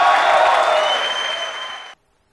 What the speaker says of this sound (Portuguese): Aplaude por isso aí, por favor.